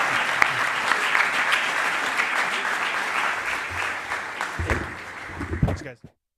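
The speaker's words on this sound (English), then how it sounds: "a round of applause for them" A conference audience applauds session speakers at a summit, dense and steady clapping filling the room for several seconds before fading out, with a few voices mixed in near the end.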